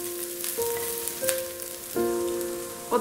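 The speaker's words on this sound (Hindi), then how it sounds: "और 2 मिनट के लिए इस तरह से हम इनको फ्राई कर लेते हैं।" Green chilies sizzling in a hot pan, a steady soft crackle with a few brief clinks of a utensil, close and without talk.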